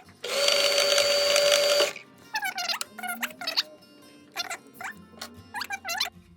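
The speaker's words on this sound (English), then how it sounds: "we're winding a bobbin" A domestic sewing machine winds a bobbin with a loud, steady motor whir lasting about two seconds, followed by scattered squeaks and light rattles as the mechanism is handled.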